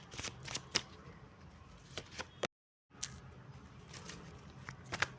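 Tarot cards being shuffled and drawn, a run of soft papery riffles and flicks with scattered sharp snaps, close up and fairly quiet, broken by a short silent gap halfway through.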